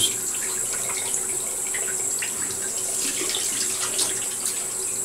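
Running water from a bathroom tap as a face is rinsed after a wet shave, a steady close rushing stream with faint splashes, no talk.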